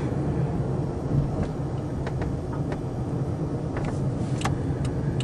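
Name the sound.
electric vehicle driving and braking to a stop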